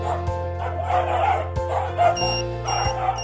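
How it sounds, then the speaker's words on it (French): A dog barks and yips in several short, sharp bursts close by, with whimpering tones between them and a steady hum underneath. "Quand votre chien aboie,"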